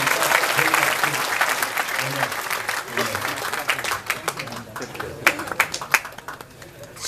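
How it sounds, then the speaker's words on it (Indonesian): Audience applause for a guest at a gathering, a burst of dense clapping that thins into scattered individual claps toward the end, with voices murmuring underneath. "Tepuk tangan semua untuk Mas Tanto."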